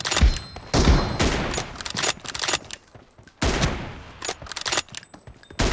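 Rapid bursts of gunfire from a shooting video game, with loud volleys opening and recurring mid-clip between quieter stretches of scattered shots and clatter.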